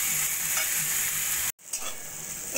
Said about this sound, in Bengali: নুন হলুদ দিয়ে ভালো করে উচ্ছের সঙ্গে মিশিয়ে নিয়ে আমি ভাজা ভাজা করে নেবো